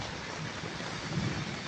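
Rain easing off with wind: a dense, even wash of falling rain blends with low gusty rumble, holding at a steady moderate level for under two seconds, with no one talking.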